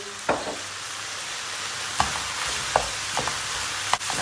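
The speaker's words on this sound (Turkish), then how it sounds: "Domates salçasını sebzelerimizin her tarafına değdiriyoruz." Vegetables sizzle steadily in a pan with tomato paste being stirred through them for a börek filling, the spoon scraping and knocking against the pan in several distinct strokes over a continuous frying hiss, with no voices.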